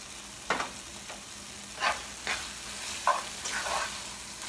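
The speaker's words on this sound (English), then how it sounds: "Give this a very good mix" Seeni sambol onion relish with sugar being stirred in a frying pan: a spoon scrapes through the mixture in several separate strokes over a low, steady sizzle, with no voices.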